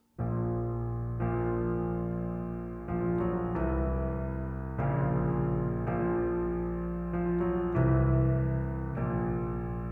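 Orchestral creature theme from The Shape of Water with deep sustained bass notes and swelling strings, chords shifting slowly in a brooding, steady progression without voices.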